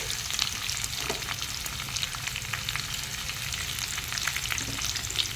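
Dried red chillies, curry leaves and sliced onion sizzle steadily in hot oil for brinjal coconut fry, a dense crackling hiss close by with light stirring scrapes, no talking.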